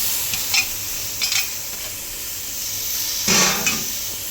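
Washed spinach leaves go into a hot pan at home and are stirred, giving soft rustling hisses and a few brief spoon scrapes, with a louder burst of sizzle near the end; no speech.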